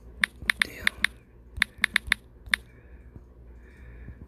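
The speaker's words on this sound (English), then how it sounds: "let's just type it in" Bursts of typing on a computer keyboard, crisp clicks in quick irregular clusters with short pauses between them, close and fairly loud in an otherwise quiet room.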